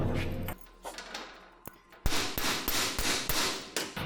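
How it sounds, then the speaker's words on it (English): A hammer strikes a metal fender panel laid on a dolly during bodywork on a GMC roadster, a few scattered taps at first and then a run of sharp, loud, evenly spaced metallic blows close by. "I'm just gonna hammer it flat so I can reverse it."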